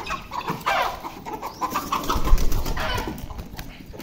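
Chickens cluck and squawk close by in a barnyard, a hen among roosters, with bursts of agitated calls and some rustling or scuffling beneath them.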